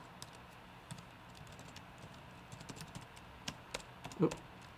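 Python code for Minecraft being typed on a computer keyboard: sparse, faint key clicks in an irregular rhythm, growing a little busier toward the end with one louder tap near the close.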